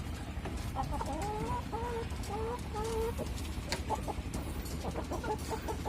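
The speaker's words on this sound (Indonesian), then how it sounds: "Nah, ini ayam-ayamnya juga sehat." Healthy farm chickens fed on maggots clucking in a series of short, close calls over a steady background hum, with no talk.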